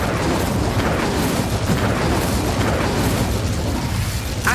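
Incendio fire spell cast in the video game Hogwarts Legacy, a dense roaring blast of flame with low rumble that holds steady for several seconds, loud and close.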